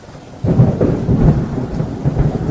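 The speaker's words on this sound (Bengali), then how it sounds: "নিম্নচাপের জন্য সকাল থেকেই টিপ টিপ করে বৃষ্টি হচ্ছে।" A deep rumble of thunder rolls in and lingers, with a soft wash of drizzle from a low-pressure system hissing steadily underneath.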